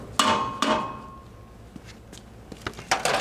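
A hammer strikes a dust cap installer while a trailer axle dust cap is being fitted to the spindle. Several sharp metallic blows sound close and loud, two strong hits first and then lighter taps, with a ringing tail after the first strikes.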